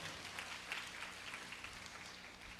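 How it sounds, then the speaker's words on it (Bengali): A church congregation applauds during a sermon, a faint, distant, even patter of many hands clapping, steady for a couple of seconds with no voices above it. "করতালি দিন, হালেলুয়া"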